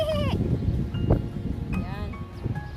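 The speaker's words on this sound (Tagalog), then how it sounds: "Nandito yung kambing, guys, eh." A goat on a small farm in Kuwait bleats in short wavering calls, one near the start and others later, over someone talking and some background rustle.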